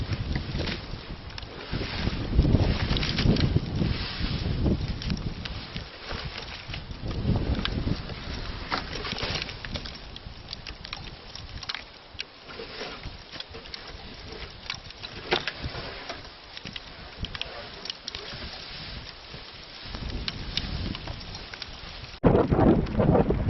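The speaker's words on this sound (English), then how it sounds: "Storm's blowing in." Stormy winter weather on a mountain hike, with gusting wind roaring and buffeting in uneven surges and rain coming down, loud and close for the whole stretch with no talking.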